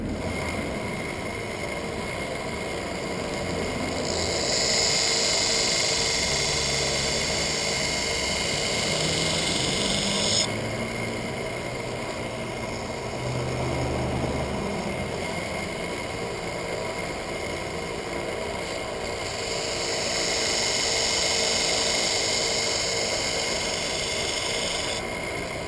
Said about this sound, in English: Let's fire up the grinder and I'll show you how I reprofile.